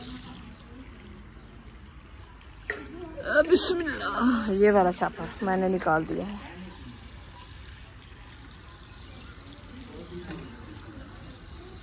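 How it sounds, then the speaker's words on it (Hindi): Water running and pouring while plants are watered outdoors in a sandy garden bed, a few seconds of splashing flow in the middle under a nearby speaking voice, with quiet surroundings before and after. "अभी पौधे को पानी लगाना शुरू कर दिया"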